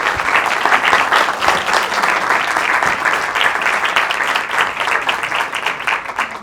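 An audience applauds loudly and steadily, a thick, continuous rush of many clapping hands close by that holds level for several seconds before tapering slightly.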